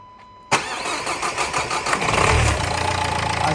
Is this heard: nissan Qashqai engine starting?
yes